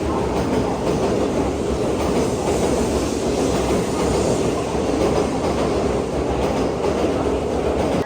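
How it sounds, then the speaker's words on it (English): A loud, continuous rumble of a train arriving at Shin Osaka Station, Japan, with clattering wheels and a faint high squeal, filling the whole stretch without a pause. "the train just got here and it departs at 6:40"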